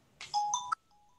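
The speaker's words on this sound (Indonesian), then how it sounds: "Ada telepon." A phone ringtone from an incoming WhatsApp call, one short bright melodic chime phrase, fairly faint, followed by a soft lingering tone.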